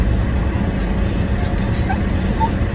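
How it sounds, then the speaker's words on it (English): A husky named Thor whines and whimpers excitedly in yips and squeals at a passing tiny dog, loud and close over steady outdoor noise. "this is Thor acting crazy because somebody's walking their tiny little dog"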